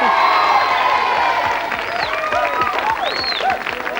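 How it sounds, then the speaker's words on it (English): Studio audience of children on a 1987 CBBC show applauding and cheering, with loud whoops and shouts over the clapping that fade slightly toward the end. "Big round of applause for the pizza."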